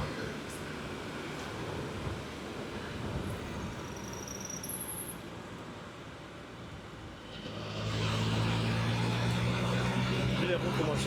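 A Can-Am motorcycle rides on a road in Luxembourg, a muffled rushing engine and road noise heard from on board that swells louder toward the end, with someone talking throughout.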